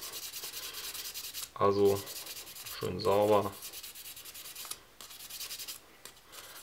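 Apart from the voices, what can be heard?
used sandpaper sanding over a spoon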